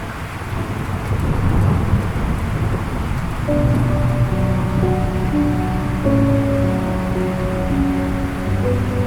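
Heavy monsoon rain pours steadily over a forest, with deep rolling thunder rumbling underneath throughout. Loud, dense and continuous, with no voices.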